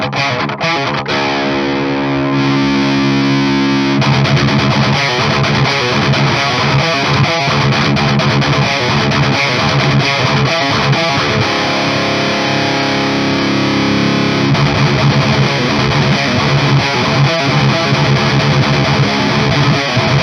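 KSR Orion 45W guitar amp with the gain turned fully up, a thick, heavily distorted electric guitar with a rush of low end, chugging rhythm riffs and sustained chords played loud and continuous for twenty seconds.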